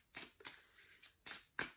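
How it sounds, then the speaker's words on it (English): Tarot cards being shuffled by hand, a handful of soft riffling bursts in quick uneven rhythm, close and quiet with no talking. "let's give a shuffle and find out what the Knitter's Tarot has for us today."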